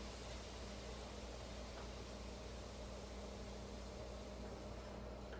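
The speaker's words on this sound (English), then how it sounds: "when you put water on it and it sizzles like that, you know it's ready" Water sizzling on a pan heated on high for cooking injera, a steady dense hiss filling the whole moment, close and continuous with no talk.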